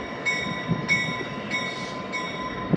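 Lackawanna F3 diesel locomotive at Steamtown, a steady rail rumble with a faint tonal hum and periodic soft clicks, heard at moderate distance with no voices.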